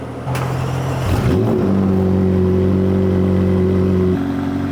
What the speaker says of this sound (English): I think we might get to see the McLaren started up